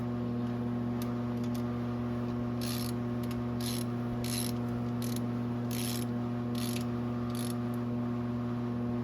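Ratchet clicks in short bursts, repeated about seven times, as exhaust flange nuts are tightened on a 2003 Yamaha Viper 700 snowmobile during an SLP triple pipe install, over a steady low hum.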